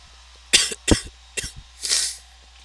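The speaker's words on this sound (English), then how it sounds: "As you can tell, I am still coughing a little bit" A person coughs four times, three sharp close coughs in quick succession followed by a longer, breathier one, in a quiet room.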